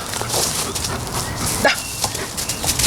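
A service dog in play-based detection training gives short whimpers and yips amid bustling handling noise and scuffling, close and fairly loud over a few seconds.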